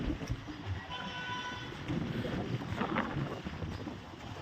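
Strong wind buffets a river launch struggling against it near a ghat, a steady loud roar of gusts with water and boat noise throughout, no talking.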